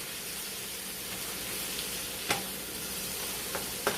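Spinach wilting in hot oil in a pan, a steady close sizzle and hiss with a few sharp crackles and pops near the end.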